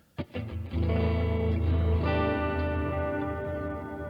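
Electric guitar through a Line 6 Helix chorus effect, a sharp pick attack then a sustained, shimmering chord that rings out and is restruck, moderately quiet with no talking.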